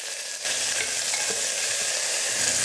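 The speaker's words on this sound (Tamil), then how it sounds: "வெங்காயத்தை நல்லா வதக்கிக்கலாம்" Onions sautéing in oil in a pressure cooker with cinnamon, cardamom, cloves, bay leaf and green chilli, a loud, close, steady sizzle that bursts in after a short quiet start, with stirring underneath.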